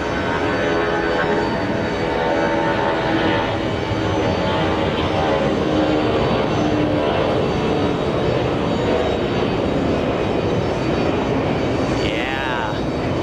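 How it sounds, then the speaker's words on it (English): An empty Airbus A340-300 jet takes off at JFK airport with early rotation. Its engines give a loud, sustained roar that builds and rumbles throughout, with voices faintly underneath. "I think that's one of the most impressive takeoffs. I love the A340."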